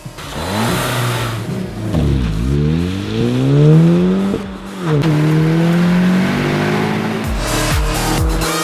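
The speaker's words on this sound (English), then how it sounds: "For a turbocharged 4-pot, the S3 makes an epic sound." An Audi S3's 300hp turbocharged four-cylinder engine revs up repeatedly, the pitch climbing and dropping through gear changes, with a loud, raspy exhaust note close by.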